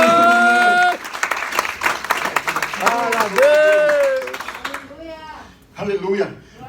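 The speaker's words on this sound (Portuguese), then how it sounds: "Vá aplaudir, aplauda com alegria" A congregation at a Portuguese-language church service claps along rhythmically under loud singing voices and music, the clapping fairly close and continuous before the sound thins out near the end.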